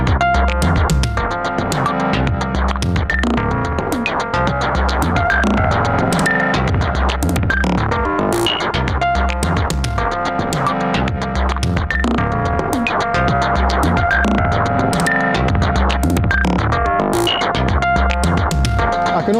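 A looping electronic beat from an Elektron Monomachine synthesizer plays with a compressor effect, steady pulsing drums and a sustained tonal hum continuing without pause, no voices present.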